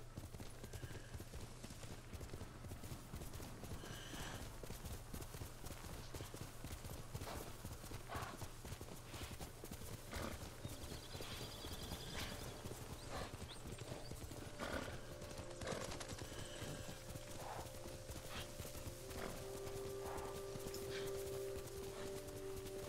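A horse gallops in the video game Ghost of Tsushima, its hoofbeats a steady rapid clip-clop throughout, with a whinny near the end and faint game ambience beneath.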